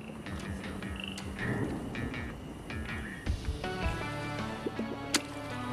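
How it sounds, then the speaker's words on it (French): Frogs raining down on a campus in the Two Point Campus management game: croaking and squelchy little plops scattered over a busy game soundtrack, some close and sharp, with no talking. "Il pleut littéralement des grenouilles."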